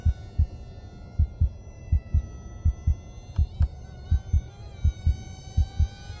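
A BM20 J20 mini RC plane motor runs at low throttle with a steady, thin electric whine. Regular low thumping pulses run underneath, and no one speaks.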